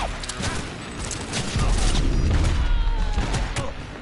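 Grenade explosions and gunfire in a Cyberpunk 2077 firefight, a dense barrage of blasts and shots with a heavier rumbling boom building midway, loud and chaotic with brief voices mixed in.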